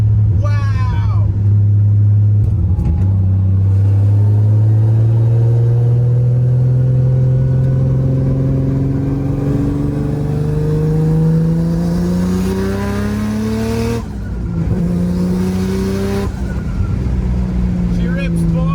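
A 1JZ-swapped Nissan 240SX S13 hatch pulls hard, its engine note sweeping upward through the gears with gear-change breaks, loud and close from inside, while excited voices talk over the acceleration.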